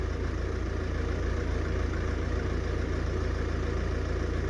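Ford Focus MK2 with the 1.8 TDCi KKDA diesel engine idling fully warmed up, a steady, even clatter and hum recorded up close and heard alone.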